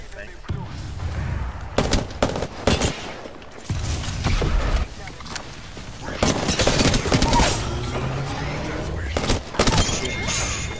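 Apex Legends gunfire crackles in repeated bursts and single shots, loud and near, with explosive pops mixed in across the whole stretch of combat.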